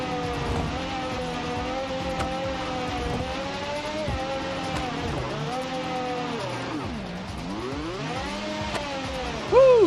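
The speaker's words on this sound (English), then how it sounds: "just the engines do feel actually quite unsatisfying. I don't know how else to describe it. Especially at higher RPMs." A car engine revs in the BeamNG driving game, a steady whining drone that climbs and dips in pitch as the revs rise and fall, loud and continuous with no one talking.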